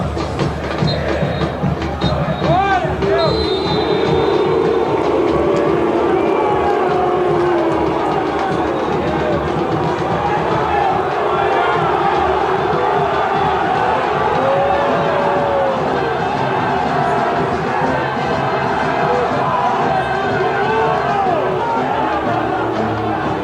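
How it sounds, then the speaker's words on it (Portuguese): A football crowd at a Grêmio match jeers the coach, a dense and continuous mass of voices that swells at times, with a commentator speaking over the roar. "Vaias, na última partida, o Renato foi chamado de burro"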